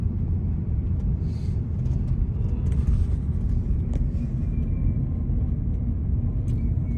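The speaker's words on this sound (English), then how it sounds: "I'm just doing a drive around the block just to show that it's the same vehicle" A Tesla drives around a block, heard from inside the cabin as a steady low road rumble and tyre noise, with faint higher ticks and sounds over the top and no talking.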